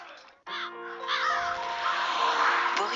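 A crow or raven caws harshly twice, near and loud, set against a sustained musical tone in a TV channel promo.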